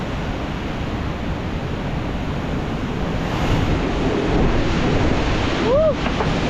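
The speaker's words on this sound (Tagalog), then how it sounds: "Sobrang grabe talaga yung hangin." Strong, steady typhoon wind roars across the microphone in a continuous broadband rush, gusting slightly louder toward the end.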